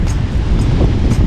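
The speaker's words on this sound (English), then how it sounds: "very windy." Strong wind on a rocky coast in Okinawa, Japan: loud, continuous roaring gusts buffet the microphone, with rough surf blending into the steady low rumble.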